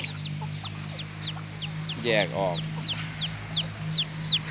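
Four mother hens cluck softly nearby alongside repeated high chirps from their chicks, with a brief louder squawk in the middle and a low steady hum throughout.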